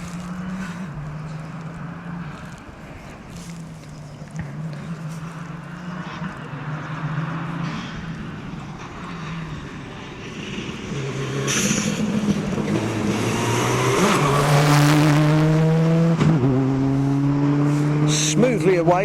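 Four-wheel-drive rally car 37 idles at the start of a stage, then its engine revs rise and it pulls away loudly with climbing gear-change sweeps, while a commentator talks over it.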